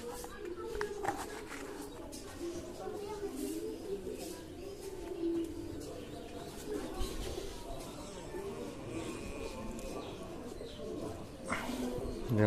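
Pigeons in a loft, including tumbler pigeons, cooing and fluttering nearby in a steady murmur, with a person speaking throughout over the birds.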